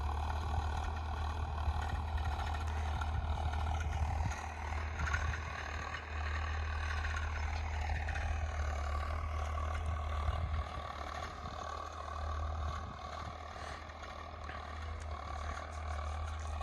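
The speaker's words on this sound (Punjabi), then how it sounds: "ਪਹਿਲਾ ਹਾਈ ਗੇਅਰ 1600 ਚੱਕਰ ਤੇ ਹੈ ਟਰੈਕਟਰ ਤੁਰਨ ਲੱਗਿਆ" Tractor in high first gear at about 1600 rpm pulling a 13-tine cultivator through a field, a steady, heavy diesel drone with a low throb and slight dips in engine load.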